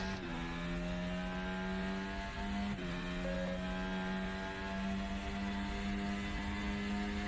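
An FX-22 race car in the RaceRoom sim drives with a steady, loud engine drone, holding a high rev note with brief dips around shifts, continuous and alone without talk.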